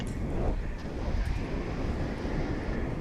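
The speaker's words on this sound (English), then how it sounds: "It's an Airbus A321 American Airlines Flight" An American Airlines Airbus A321 arriving at DFW International Airport on a flight from Salt Lake City produces a steady, broad roar of engine and wind noise that holds at a constant loudness throughout, with no voices.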